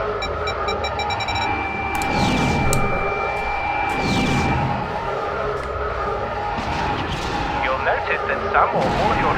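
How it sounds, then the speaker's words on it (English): Torpedoes launched in the TIE Fighter game, heavy booming blasts and whooshing bursts over constant engine rumble and cockpit tones, with a voice talking throughout. "Throttle up, lock on, and fire 2 torpedoes."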